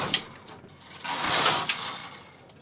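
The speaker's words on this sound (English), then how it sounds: "I knit 2 rows with the K carriage." A Brother KH585 push-button knitting machine carriage slides across the needle bed knitting lace rows, producing clicking mechanical ratchets and a rising whirring sweep, close and moderately loud.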